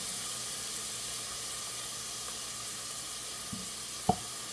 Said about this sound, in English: getting these a little sauteed and soft